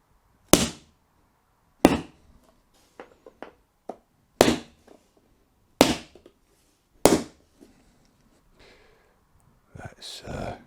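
Carpet being tapped into place along the back wall of a room, heard as about six sharp, separate knocks spaced a second or so apart, with soft scuffs and handling noises between them and a brief rustle at the end.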